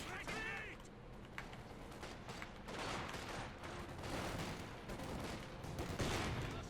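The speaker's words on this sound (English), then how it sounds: "Rifle grenades fired, but not really much of a contact." Rifle grenades and scattered gunfire in a winter battle in Company of Heroes 2, a dense continuous clatter of shots and small blasts with mechanical noises, under a steady bed of battle noise and voices.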